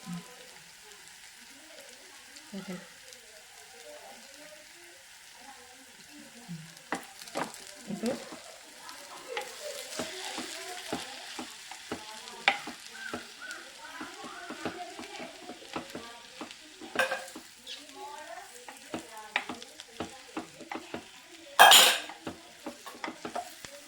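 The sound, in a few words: cooked chicken added and stirred into frying onion mixture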